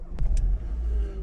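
A Renault car with a 1.2 TCE petrol engine starts up, a brief crank followed by a low, steady idling rumble, close and fairly loud.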